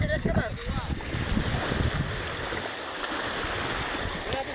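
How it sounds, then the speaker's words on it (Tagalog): Steady rush of water and wind around a small boat, a constant broadband wash with gusty buffeting and faint voices underneath. "nakasakay na ako ng bangka"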